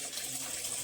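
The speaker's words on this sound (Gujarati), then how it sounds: "વાસણ ઘસવાનું." Tap water runs steadily into a kitchen sink while dishes are washed, a brief, close, even hiss of flowing water with no voices.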